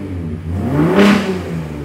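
A car engine, monitored through an RTD4 data logger, gives one quick rev: a short rising whir that swells near the middle and settles back to idle, close and moderately loud.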